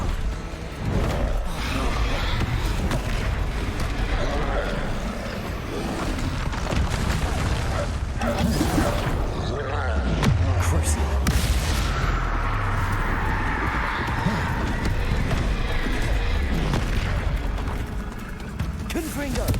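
Repeated Confringo spell explosions in the video game Hogwarts Legacy, booming blasts mixed into continuous loud combat noise with a voice talking throughout.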